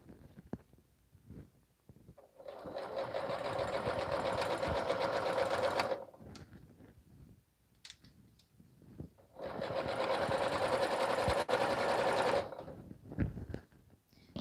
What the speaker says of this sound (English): I just grab it and I just keep sewing